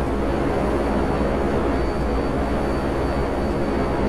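Steady, continuous jet roar of a Hydra military jet aircraft in GTA Online, loud and close with a faint high engine whine running throughout, no voices.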